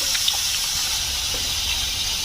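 Hot water pours out of a heated kadai, a steady hissing gush with a faint splash and no voices.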